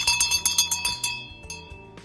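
A hand bell rings in quick, repeated strokes, bright metallic clangs with a lingering shimmer that gradually slows and fades.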